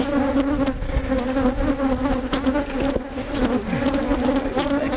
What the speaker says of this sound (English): I'm just trying to suck up a lot of bees right now just to reduce the overall anger and numbers.